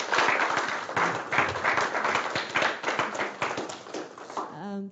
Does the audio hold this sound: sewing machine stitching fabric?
no